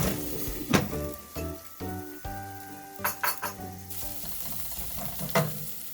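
Omena, small silver cyprinid fish, frying in oil with onion, garlic and ginger: a steady close sizzle with occasional stirring scrapes and a few clinks of a utensil against the pan.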